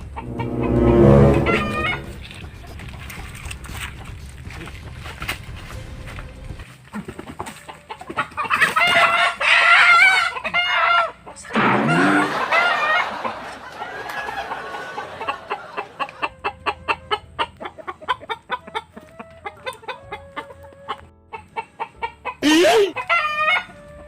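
Chickens cluck busily up close as a rooster crows loudly, with scattered squawks and rustling over a steady farmyard din.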